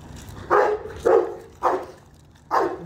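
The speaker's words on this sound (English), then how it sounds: "You don't even normally bark." A Rottweiler barks four times in steady, evenly spaced single barks, loud and close, with no talking between them.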